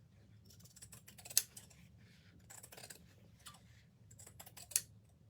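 Scissors snip through jean fabric along a marked line while a fanny pack is made, giving a few quiet, sharp crunching cuts at a close distance with faint rustling between them.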